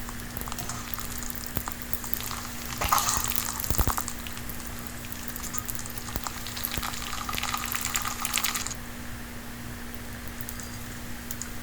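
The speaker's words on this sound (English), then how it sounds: "I have taken sesame oil for frying. You can use any oil you like. And fry all the noodles" Rice noodles frying in sesame oil, a steady crackling sizzle that runs throughout with a brief louder burst of bubbling partway through, close and with no talking.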